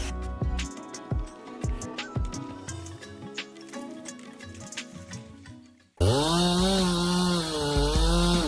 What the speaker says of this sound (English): Hear that roar? That's the chainsaw, not just cutting but singing as steel bites into wood.